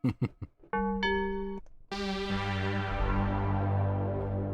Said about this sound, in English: that's Tubular Bells.